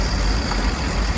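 A Humber Mk1 Snipe, its engine swapped for a later type and fitted with a wartime military tappet chest cover, idles steadily close up with a loud, even low rumble and no voices.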